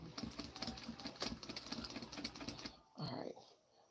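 Sewing machine running at a 3.0 stitch length through knit fabric for a set-in sleeve, a steady close mechanical whir with rapid needle ticking for nearly three seconds before it stops and a brief thud follows.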